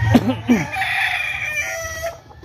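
In a small backyard farm, a rooster lets out one loud, close, drawn-out crow after a few short clucks from the chickens, with no talk over it.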